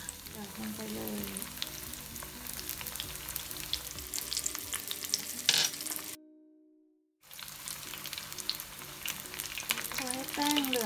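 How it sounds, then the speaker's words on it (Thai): Cheese samosas deep fry in medium-hot oil with a constant crackling sizzle and occasional stirring clinks, close and steady, cut by a brief silent gap midway before the frying resumes. "ตอนนี้ก็มาถึงการทอดนะคะก็ใช้น้ำมันประมาณปานกลางค่ะร้อนปานกลาง"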